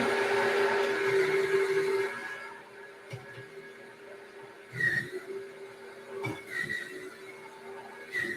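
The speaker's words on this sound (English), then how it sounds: "let's turn this machine back on. We're making ice cream" Blender whirring as it makes banana nice cream, a loud motor drone for the first two seconds, then dropping to a lower hum with whining, shifting tones and a few clunks as the contents churn.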